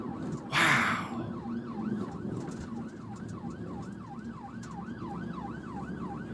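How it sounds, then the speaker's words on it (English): A UK ambulance siren wails in a steady rising-and-falling cycle at moderate distance, over road noise, after a brief burst of wind or rustle. "blare the siren"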